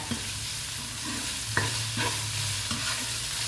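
Mee sua noodles are stir-fried in a pan, with a continuous close sizzle and a few distinct spatula scrapes.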